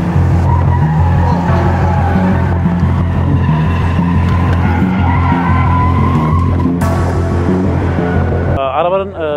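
A modified car with new tires, tuned up by about 80 PS, is driven hard on a training track in Berlin. Its loud engine roar runs continuously under repeated tire squeals and skids, ending in a sharp rising screech.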